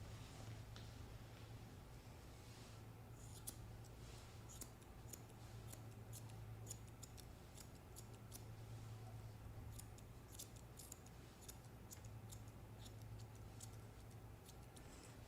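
Grooming scissors snip a short-bodied dog's long chin hair in quick, light clusters of close cuts over a steady low background hum.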